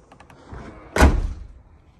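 A hatch on a hybrid car set up for camping swings shut with a single solid thud, close and loud, after a brief soft rustle, then the sound fades quickly.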